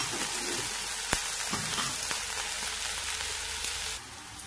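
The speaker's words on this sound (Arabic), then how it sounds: "بعد كده هبدأ انزل بقى بالفلفل، اقلبه معاه برضه تاني" Bell peppers and onion fry in a pan with a steady, close sizzle. There is a single sharp clack of stirring near the start and a few softer scrapes after it, and the hiss drops away just before the end.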